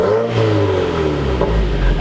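A Subaru FA engine with a Corsa exhaust revs up close and loud, the pitch sweeping upward then settling into a deep droning rumble with a slight rasp, with no voices over it.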